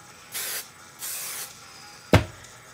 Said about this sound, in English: Okay, so now I'm going to spray this.